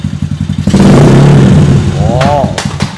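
A Yamaha LC135 V8 motorcycle engine with a carburetor fault idles unevenly, then revs hard and loud close by, sputtering and straining before dropping back, with someone speaking briefly over it.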